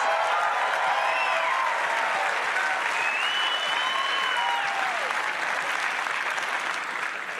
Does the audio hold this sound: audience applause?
yes